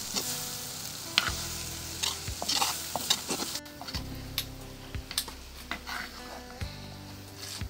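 Kekatiya curry being stirred and mixed in a pan on the stove, a spoon scraping and knocking in repeated strokes over a soft steady sizzle, close by with no talking.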